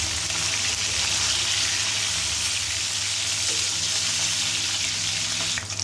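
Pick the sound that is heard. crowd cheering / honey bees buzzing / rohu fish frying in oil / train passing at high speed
rohu fish frying in oil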